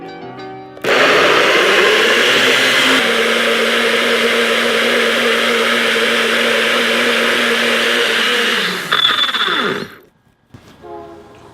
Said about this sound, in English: And you simply blend this together.